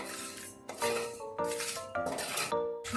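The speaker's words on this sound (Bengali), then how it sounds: "এবার আমি ধনে জিরেটা দিয়ে দেব। এটাও কিছুক্ষণ শুকনো খোলায় নেড়ে নেব।" Coriander and cumin seeds are dry-roasted and stirred in a dry pan, with repeated rattling scrapes of spatula on metal in uneven strokes, close and clear, with no voice.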